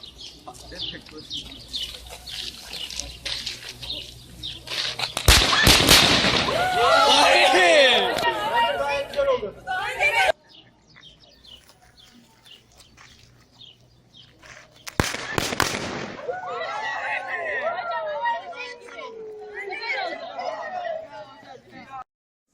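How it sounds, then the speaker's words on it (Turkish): Two sudden crackling, fizzing bursts as sodium explodes in water at a school, each followed by excited voices and chatter, with birds and roosters audible in the background. "Suyun içerisine sodyum attık hatırlarsanız ve bunun sonucunda bir patlama ve gaz çıkışı"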